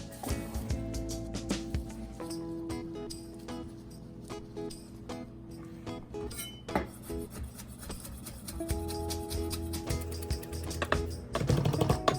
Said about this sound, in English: we're simply doing a fine dice on some white onion and cilantro